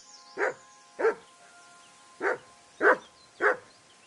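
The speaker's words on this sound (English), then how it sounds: "Good dog, Mutz." Mutz the dog in Kingdom Come Deliverance 2 barks five times in short separated bursts, sharp and fairly close, over a quiet background.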